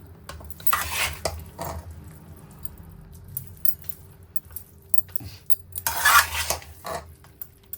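Mango rice chitranna (mavinakayi chitranna) mixed with a spoonful of sugar, metal spoon clinking and scraping against a vessel in scattered bursts, close and fairly quiet between strokes, no talking.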